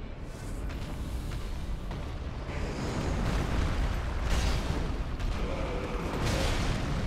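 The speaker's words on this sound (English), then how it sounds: "that's a bigger explosion than I thought it was" A Dark Souls 3 explosion rolls out as a sustained, rumbling roar that swells and stays loud for several seconds, with no speech over it.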